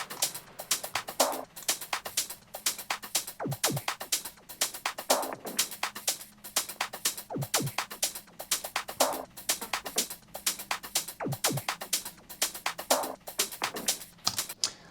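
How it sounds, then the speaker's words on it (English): A soft, melodic progressive house drum section plays alone, with a steady four-on-the-floor kick, crisp hi-hats and snare or clap hits repeating in a tight loop at moderate volume. "I'll just play the drum section."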